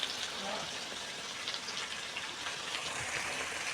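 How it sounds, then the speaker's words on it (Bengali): Potatoes with cumin frying in an oil-filled pan give a faint, steady crackling sizzle, an even hiss that carries on unbroken for a few seconds. "ব্যাস, এবার একটু ভাজা ভাজা হোক"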